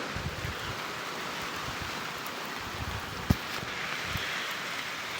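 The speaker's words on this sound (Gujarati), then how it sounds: "વરસાદ આવી ગયો." Morning rain falls steadily outdoors, a soft even hiss of drops with one sharp tap partway through and no voices.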